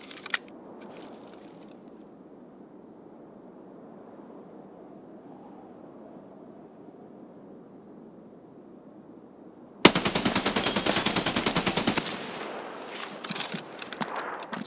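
Mounted machine gun in Escape from Tarkov opens fire after a long stretch of quiet ambience, a loud sustained burst of rapid shots lasting a couple of seconds, then ringing off into the background.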